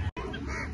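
A single brief duck quack sounds close by, a short nasal honk lasting under a second.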